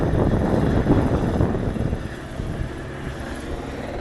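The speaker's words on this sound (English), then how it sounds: "But yeah, got a helicopter." A helicopter's rotor thrum drones overhead, loud at first and then fading to a steady distant hum.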